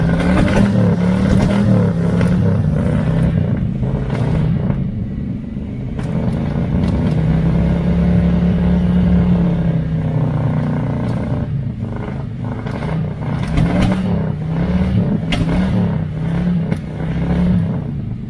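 A 1982 Chevy El Camino V8 with a carburetor that may be slightly out of time idles roughly and is blipped repeatedly, its loud, uneven rumble rising and falling through several revs.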